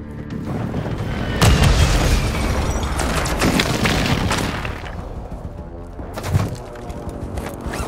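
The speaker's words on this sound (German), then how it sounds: "Granate ist raus!" A grenade blast in Call of Duty: Warzone 2.0 on Ashika Island, a loud booming explosion amid ongoing gunfire and rumble, followed by a second muffled thump a few seconds later.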